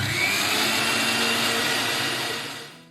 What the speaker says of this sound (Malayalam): അതായത് 1/4 കപ്പ് എണ്ണ വീതം ഒഴിച്ച് 10-15 സെക്കൻഡ് നേരം ബ്ലെൻഡ് ചെയ്യുക.